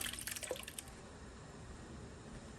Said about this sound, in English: This time the water flow is much gentler.